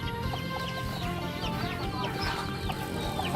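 Fighting cocks cluck and call steadily in a rustic backyard pen, several birds close by with overlapping clucks over a constant hum of farmyard background.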